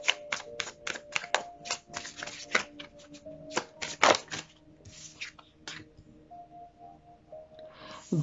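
Tarot cards shuffled and drawn, a rapid series of crisp riffling flicks and snaps close by, with a louder slap midway and a few quieter card pulls toward the end.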